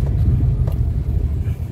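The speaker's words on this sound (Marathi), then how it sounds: "तर थोडंसं ट्रॅफिक आता आपल्याला मिळत आहे." Road traffic on the Mumbai-Goa highway near ongoing roadwork, a steady low engine rumble of passing vehicles with faint wind noise.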